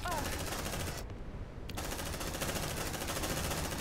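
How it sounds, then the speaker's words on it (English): Sustained suppressive machine-gun fire in the sci-fi video game Aliens: Dark Descent, a dense, loud, continuous rattle of automatic shots lasting nearly four seconds, with a brief dip in the middle. "Suppressive fire."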